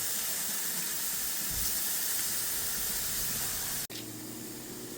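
Pork on an Ozpig BIG PIG flame grill sizzles in a loud, steady, close hiss that cuts out briefly near the end, with no speech over it.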